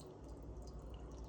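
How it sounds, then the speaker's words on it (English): Beef bone broth drains and drips into a sink, a faint steady trickle with soft drip sounds over a low background. "let most of it run and drip"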